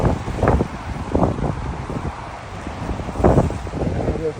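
Blustery wind in cold, rainy St. Petersburg weather buffets the microphone in irregular gusts, with low rumbling bursts and a steady whooshing background.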